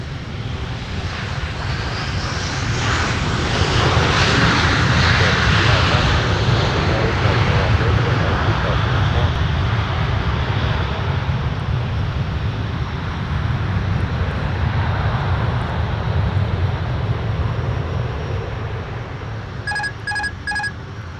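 A jet airliner takes off from Minneapolis–Saint Paul airport, its engine roar loud and steady for about twenty seconds before easing slightly, with a few faint beeping tones near the end.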